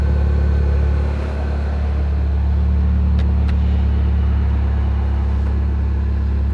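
Mini Cooper S R56 engine idling steadily, a loud, constant low hum with no talk.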